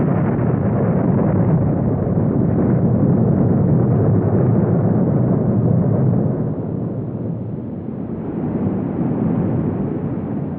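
The 1883 volcanic explosion of Krakatoa is rendered as a deep, sustained, roaring boom that fills the clip loudly, easing slightly toward the end, with no voices.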